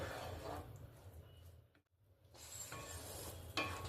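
Mulor chutney, a radish chutney with lemon juice, being stirred in a pan: soft scraping and low sizzling that pauses briefly near the middle before resuming.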